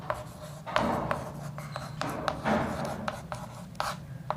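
Chalk or marker strokes on a classroom board during a Class 9 geometry lesson on triangles, a series of short scratchy taps and rubs spaced irregularly, fairly close and moderately loud, with no voice over them.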